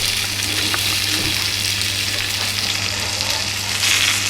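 Bacon slices frying in oil in a small fry pan make a steady, close sizzle with a constant hiss and a low hum underneath; nobody speaks.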